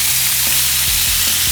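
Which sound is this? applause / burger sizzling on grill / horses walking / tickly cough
burger sizzling on grill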